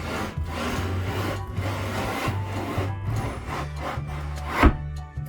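A wooden bunk bed panel slides along a groove, giving a steady, close rubbing scrape of wood on wood with a rhythmic low vibration, ending in a brief knock.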